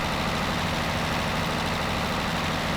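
A tractor in Farming Simulator 2017 drones on with a steady, loud low engine rumble trailing black smoke, unchanging and continuous with no speech over it.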